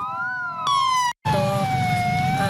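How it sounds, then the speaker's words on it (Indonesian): Sirens wail from three ambulances at the close of a candlelight solidarity vigil for a doctor. The tones are loud and sustained, with a brief break before they resume. "diakhiri dengan pembunyian sirine dari 3 unit ambulans"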